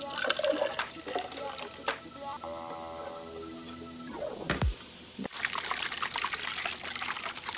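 A small amount of water is poured into a storage container, trickling and splashing up close at low volume while a person talks.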